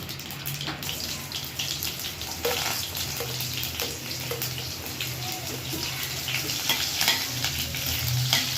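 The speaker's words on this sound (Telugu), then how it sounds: "నెక్స్ట్ ఆనియన్స్ వేసుకుంటాము." Onions and mustard seeds sizzle steadily in hot oil for lemon rice, a continuous close frying hiss with occasional stirring scrapes throughout.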